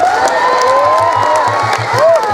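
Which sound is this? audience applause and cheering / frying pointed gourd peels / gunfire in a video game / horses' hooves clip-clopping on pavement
audience applause and cheering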